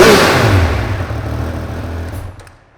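A 2021 Triumph Speed Triple 1200 RS motorcycle exhaust with its valve opening, a loud close rev that peaks at once and then decays steadily into quiet.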